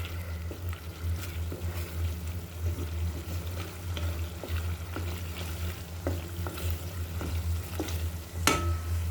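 Whole cardamom, cinnamon and cloves sizzling in hot oil for a singi fish curry, with a steady low frying hiss and occasional stirring scrapes and clinks of a spoon against the pan.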